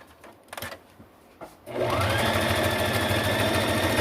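Sewing machine running a fine, tight stretch stitch along a collar edge: after a few light handling clicks, the motor starts and whirs loud and continuous.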